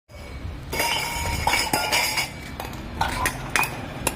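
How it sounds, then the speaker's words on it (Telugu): Drinking glasses are washed by hand and give off repeated bright clinks and knocks against each other and other dishware, with running water or scrubbing underneath. The sounds are close and irregular, and no one speaks. "ఇక గ్లాసులు ఇలా కడుగుతున్నారు"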